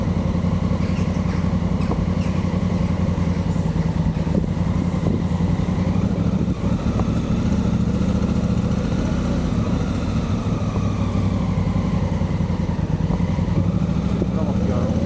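A motorcycle on the road near Yeniçiftlik and Silivri gives a loud, continuous engine drone with heavy wind rush, steady throughout with slight shifts in pitch, and a rider's voice is heard over it.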